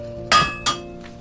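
A blacksmith's hammer strikes copper and iron twice in quick succession, each a bright metallic clang with a ringing decay, followed by a faint third tap.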